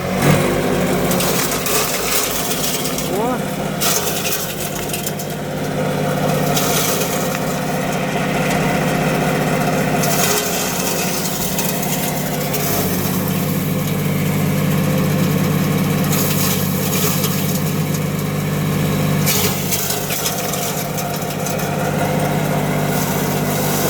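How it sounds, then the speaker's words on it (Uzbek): A loud motor-driven crusher runs steadily, its engine droning while it grinds and crunches fodder, with brief surges of harsher grinding throughout. "Hozir endi buni o'tlarni bir maydalab ko'ramiz."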